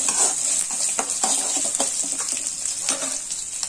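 Sliced dried red chillies and small onions sauté in a pan, a steady close sizzle with intermittent scraping stirs throughout.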